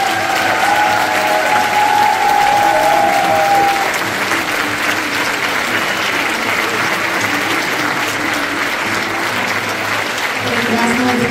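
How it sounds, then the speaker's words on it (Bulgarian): Sustained applause from a concert audience at a folk music show, loud, dense clapping filling the hall throughout, with a faint tone and a voice briefly audible beneath it. "Прекрасно е да чуваш тези аплодисменти."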